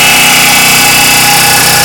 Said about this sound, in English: the easiest way to push this axle through is going to be using an air hammer.